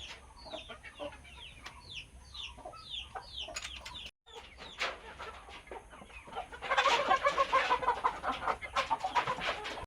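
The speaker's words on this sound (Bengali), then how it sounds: "এই ঘরে মুরগি আছে, বাড়ি মুরগি" Domestic chickens, including a rooster, cluck repeatedly inside a household coop, with several overlapping calls that grow louder and denser toward the end, nearby and without speech.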